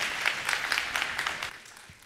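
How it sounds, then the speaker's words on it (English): Audience applause at a church gathering, quiet but steady clapping from a crowd with a few individual claps standing out, continuing evenly for about two seconds. "Welcome, Patty, with your round of applause."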